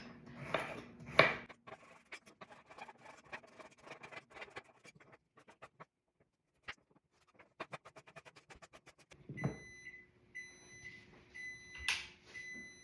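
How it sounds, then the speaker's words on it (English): A kitchen timer for a spinach artichoke dip sounds a run of repeated, high electronic beeps near the end, after scattered clicks and light clatter in a quiet kitchen. "that was my timer"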